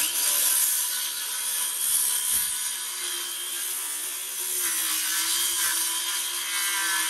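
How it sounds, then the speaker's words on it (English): A cordless power saw cutting a wooden board at an angle for a buck pen, a close, loud, steady high whine with a constant motor drone, the pitch dipping slightly as the blade bites into the wood. "I'm just using my cordless saw to cut this"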